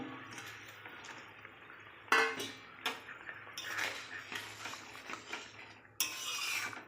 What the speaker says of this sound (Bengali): ভেজে রাখা মাছগুলো দিয়ে দিলাম।